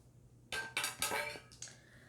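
A small metal bowl handled close by, clinking and ringing in four or five quick bright knocks, each with a short metallic shimmer, in a quiet room.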